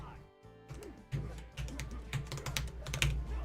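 Rapid, irregular key clicks from a computer keyboard used as a controller in the fighting game Konsui Fighter during a playtest, tapping steadily over continuous game music and effects.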